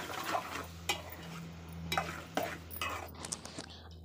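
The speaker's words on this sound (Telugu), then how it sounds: "అడుగును అంటకుండా గరిటెతో అయితే ఇలా తిప్పుకుంటూ ఉండండి." A spatula scrapes and clinks around a pan of cucumber and tomato gravy curry, with several sharp knocks against the pot amid soft sizzling and a few quieter stirs, close and fairly faint.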